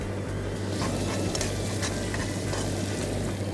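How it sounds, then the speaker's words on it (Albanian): Butter melts in a hot pan with a constant, dense sizzle and crackle. It is close and steady throughout, with faint stirring scrapes on top. "Këtu pe shkrim gjalpën."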